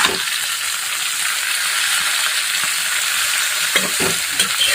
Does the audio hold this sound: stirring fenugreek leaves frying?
yes